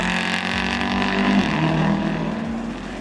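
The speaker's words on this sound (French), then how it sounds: "elle a fait résonner le bruit de son moteur qui était alors un 4 cylindres" A loud four-cylinder Alpine race car engine drones steadily throughout, its low rumble and higher harmonics holding near and constant with slight shifts in pitch.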